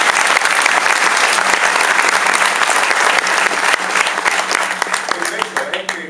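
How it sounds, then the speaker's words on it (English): A large audience applauding at a youth institute event in Arizona, loud sustained clapping that thins out toward the end, with voices mixed in. "let's give him a better round of applause"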